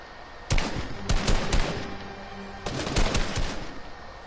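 Video game gunfire in Fortnite, two loud bursts of rapid shots about two seconds apart, close and dominant with no talking.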